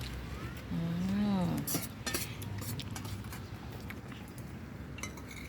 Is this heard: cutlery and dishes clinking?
yes